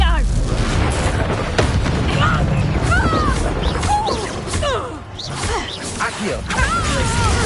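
Confringo blasting spells go off in Hogwarts Legacy combat, a run of loud booming bursts and whooshing impacts under busy game noise, with voices talking over the fighting.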